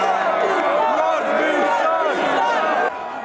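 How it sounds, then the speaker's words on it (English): Unruly hockey fans packing a street at night, a loud dense crowd roar of overlapping shouting and chatter filling the scene close by without pause. "a street full of hockey fans"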